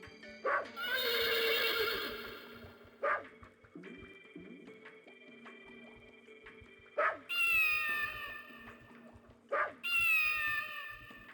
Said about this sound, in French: Cheval, chat.